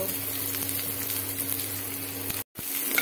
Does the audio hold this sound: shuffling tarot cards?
no